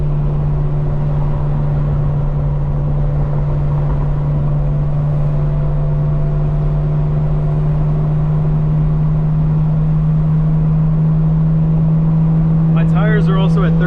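A 2025 BMW M4 Competition engine droning steadily from inside the car while driving, loud and continuous, with a voice speaking briefly near the end.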